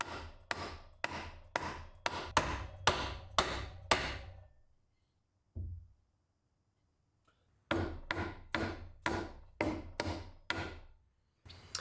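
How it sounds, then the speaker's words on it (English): Wooden tenons are driven into mortises with two runs of sharp, evenly spaced knocks, about seven blows each, separated by a pause and one softer thud, close and clear with no talking. "we're going to see if these tenons fit into the mortises"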